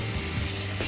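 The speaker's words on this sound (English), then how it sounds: "It's going to take me less than 2 minutes to wash this pan." A dirty pan being washed in a kitchen sink, a steady rush of running water with faint scrubbing, continuous and close throughout the short moment, no talking.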